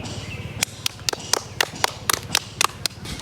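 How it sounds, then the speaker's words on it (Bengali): A small group applauds a young girl at a home balloon challenge game, giving about a dozen sharp, separate claps spread across three seconds in a fairly steady rhythm, heard close over a low background hum. "একটা হাততালি"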